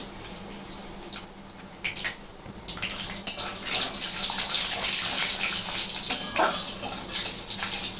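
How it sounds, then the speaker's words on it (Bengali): Mustard seeds and dried red chillies hit hot oil for tempering, giving a close, hissing sizzle with scattered pops and crackles that builds and stays busy for several seconds, with no talking. "শুকনো লঙ্কা দিলাম একটু সর্ষে ফোড়ন দিলাম"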